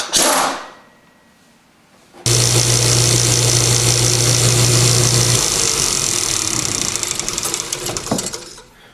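A 6 volt generator spins on a generator-alternator-starter tester: after a brief burst and a couple seconds of quiet, a loud, steady mechanical whir and hum kicks in and runs continuously, with a low drone dropping out partway.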